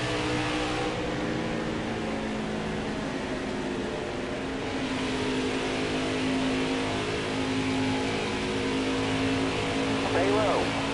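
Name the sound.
race car engine at Pocono in racing video game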